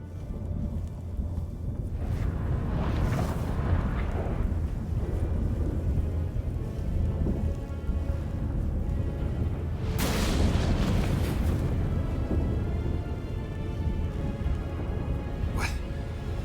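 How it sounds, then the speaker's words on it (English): A sudden storm rolls in during a tense scene in The Witcher 3, with steady wind and rain roaring throughout and heavy rumbling surges of thunder-like booms, the loudest bursts near the start and middle, while characters speak briefly over it. "That a storm?"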